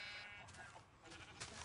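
A sheep bleats in a video game, a short, quiet, wavering cry lasting about a second amid low background noise.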